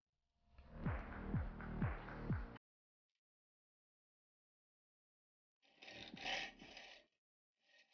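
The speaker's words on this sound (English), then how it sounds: "I then clamp the casting to a vise and remove the sprues with a saw." Hand saw cutting sprues off a metal casting clamped in a vise: about five quick rasping strokes, a pause, then a short second burst of sawing and a brief third start, close and fairly quiet.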